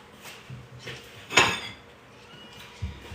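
A kitchen bowl taken out and set down, a few soft knocks followed by one bright ceramic clink, with a lighter tap near the end, close and alone.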